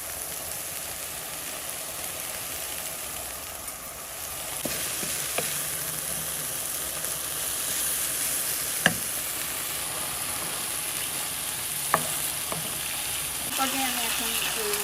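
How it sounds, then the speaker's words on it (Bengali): Pasta sizzles quietly in a pan with tomato sauce, a soft steady frying hiss broken by a few sharp clicks and scrapes of stirring. "পাস্তাকে ভালো করে নেড়ে চেড়ে মিশিয়ে নিব"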